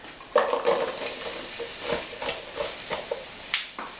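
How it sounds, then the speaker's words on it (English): Apples sizzle in a hot pan, crackling steadily up close while a utensil stirs and scrapes now and then. "That sizzle though."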